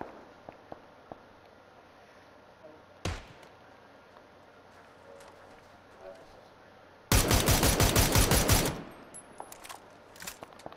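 Video game gunfire: a single sharp shot early, then a loud rapid burst of automatic fire lasting about two seconds, with quiet game ambience around it.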